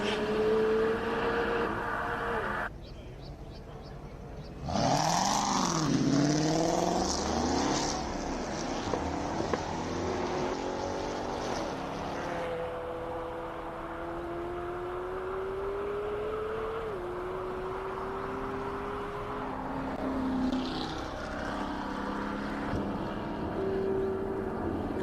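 A McLaren 720S sports car climbs the Simola hillclimb, its engine note rising and falling through gear changes, loud at first and then receding into a steady, more distant drone.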